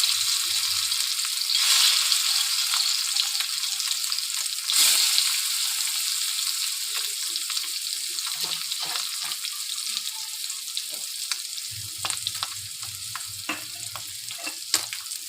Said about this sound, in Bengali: দেখো ডিমগুলো ভাজা হয়ে গেছে